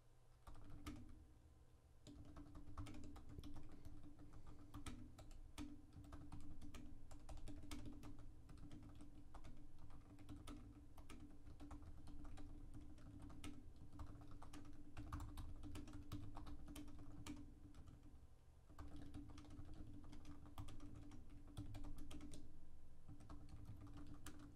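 Steady typing on a computer keyboard while writing a description for an MTG Arena gameplay session, with irregular key clicks running throughout over a constant low background hum, no speech.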